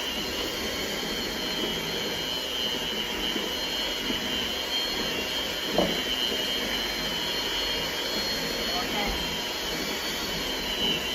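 An electric mixer beats chocolate chip cookie dough in a home kitchen, a steady loud whirring drone lasting throughout with no clear change in pitch.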